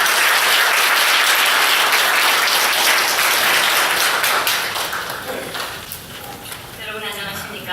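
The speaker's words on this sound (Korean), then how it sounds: "따뜻한 박수로 맞이해 주시기 바랍니다" Audience at an overseas Korean community forum on peaceful reunification gives loud, dense applause to welcome a professor, fading gradually over the last few seconds.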